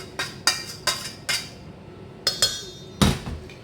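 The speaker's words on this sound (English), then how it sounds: "Get to scrape out the bottom of the pan as well." A metal utensil knocks and scrapes against a pan holding sticky granola binder, in a series of sharp clinks and taps spaced unevenly, with no talk.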